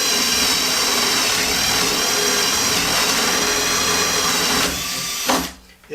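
A Hercules 12 volt drill turns a 3/4 inch spade bit through 3/4 inch pine, giving a steady close whine and grinding that holds for about five seconds, then winds down and stops.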